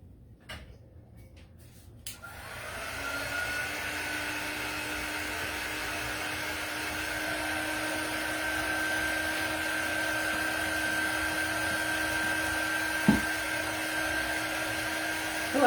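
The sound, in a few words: hair dryer drying a wood craft sign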